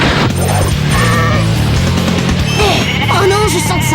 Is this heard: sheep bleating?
yes